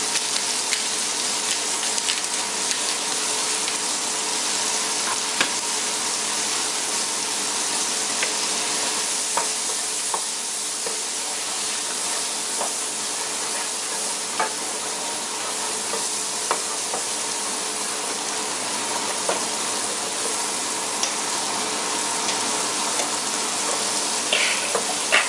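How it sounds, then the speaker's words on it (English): Salted, peppered mushrooms frying in brown butter for chicken marsala, giving a dense, even sizzle with occasional light clicks of the pan and utensil, close and constant, no talking. "We're just going to leave this alone for a little bit and cook them down in the brown butter"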